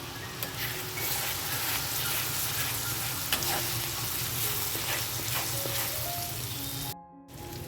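Spices fry in a pan for a Bengali pointed gourd curry, a steady close sizzle with faint stirring scrapes throughout, cut by a brief dropout near the end.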